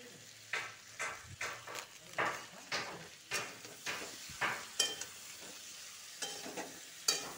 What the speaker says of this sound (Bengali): ভালো করে নাড়াচাড়া করতে থাকবো।